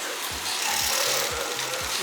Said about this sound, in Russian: данная швейная машинка называется по-китайски дословно компьютер-автомобиль